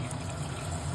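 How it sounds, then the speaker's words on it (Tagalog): Steady running water trickles and splashes into a cooking pot, a continuous pouring sound close by with no talking. "lagyan po natin ng konting tubig"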